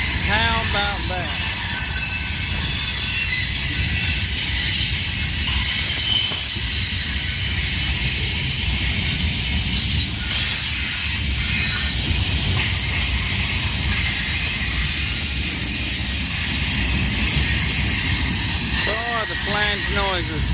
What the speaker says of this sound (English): The flange noise is something here